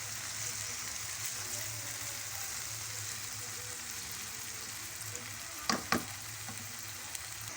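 Cumin and ginger garlic paste sizzle steadily in a hot pan for a potato curry, a faint continuous frying hiss with a few brief scraping clicks of stirring near the end.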